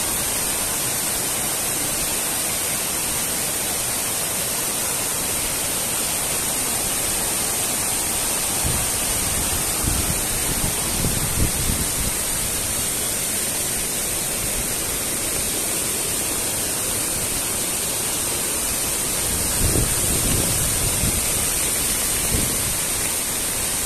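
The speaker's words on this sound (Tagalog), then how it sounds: "Nandito na pala yung tubig, ang lakas niya. Rumaragasa." Powerful rushing river water in Hong Kong during a black rainstorm roars continuously, a dense broad hiss with occasional deeper surges, no voices.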